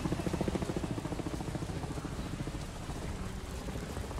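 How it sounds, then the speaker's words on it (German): A helicopter in the video game Avatar: Frontiers of Pandora gives a rhythmic, thudding rotor beat, loudest at the start and fading to a steadier, softer chop over four seconds, with no talk over it. "Jetzt höre ich auch einen Helikopter."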